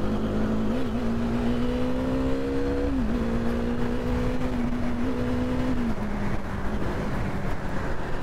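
Yamaha FZ-S V3 motorcycle engine on a ride near Shamirpet Lake, a steady loud drone whose pitch rises and falls slightly with throttle changes, continuous throughout with wind and road noise.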